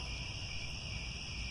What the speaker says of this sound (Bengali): অন্ধকারে ঝিঝি পোকার ডাকের শব্দটি স্পষ্টই কানে আসছিল।